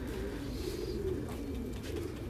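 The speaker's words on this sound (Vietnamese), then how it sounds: "Cặp chim bồ câu Titan Thái siêu thịt rất là khủng," A pair of large Thai Titan meat pigeons cooing on an industrial pigeon farm: soft, low, repeated throaty coos, fairly close but quiet, over a faint steady background hum.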